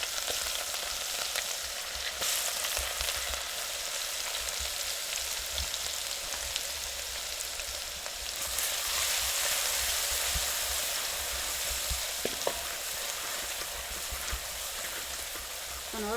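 Green chilli pieces, garlic and ginger fry in oil in a village kitchen, a dense, steady sizzle that sounds almost like rain, close and constant, with faint clinks of stirring.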